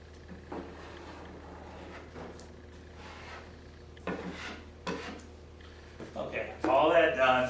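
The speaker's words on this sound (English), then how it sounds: "I'm just coming right up here, scraping, right up here, scraping, wiping on the rag." A scraper works chemical stripper off the wooden cabinet of a Zenith 6S27 ebony radio in a series of short, raspy strokes. They are spaced irregularly and quiet to moderate, and a person talks over the work.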